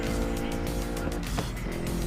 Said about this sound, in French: Chouette petite voiture à conduire.